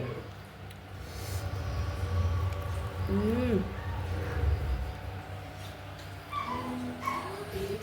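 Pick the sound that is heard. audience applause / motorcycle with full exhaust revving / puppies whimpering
puppies whimpering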